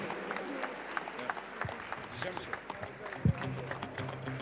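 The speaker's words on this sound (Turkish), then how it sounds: "her iki sporcu için bir kez daha çok güçlü alkışlar gelsin" Crowd applause for two boxers at a sports complex event, a steady wash of clapping under a voice speaking over it, with a brief louder thump near the end.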